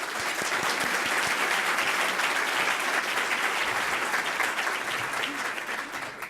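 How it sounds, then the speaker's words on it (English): Applause from a nonprofit forum audience greeting introduced panelists: a thick, even wash of many hands clapping, sustained for several seconds before thinning out at the close. "Let's give them a round of applause."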